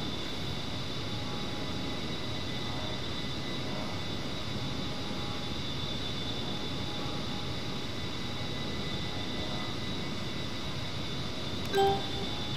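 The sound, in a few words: A-10C Warthog jet engine flying in DCS video game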